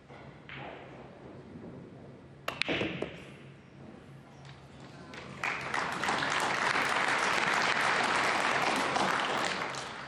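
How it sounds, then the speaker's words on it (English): Applause from the crowd at a 2024 US Open Pool Championship semi-final follows a short-range pool shot, beginning with a couple of sharp knocks, then swelling into steady, dense clapping that carries through to the end. "Justified applause"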